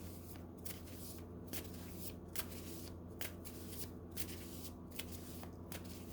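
A deck of cards is shuffled in repeated riffles, each burst of fluttering snaps separated by short pauses, close and fairly quiet over a low steady hum.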